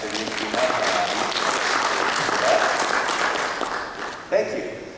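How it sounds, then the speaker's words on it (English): An audience applauds at a talk on gamification in teaching, a dense, steady clatter of clapping that swells and then fades out, with a voice briefly breaking in near the end. "Everyone give a round of applause for Dr. Yuki."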